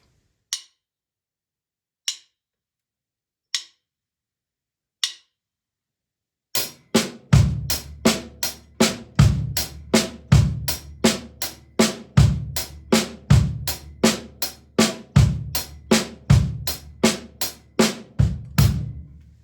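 Drum kit playing a 16th-note linear groove built on a 3/5 phrase, hi-hat and snare alternating in a steady tight pattern with kick, clear and close, after a few sparse stick clicks count it in.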